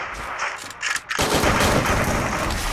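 Gunfire in a video game with an enemy shooting the player: sharp shots at first, then a dense burst of rapid fire that fills the rest of the clip.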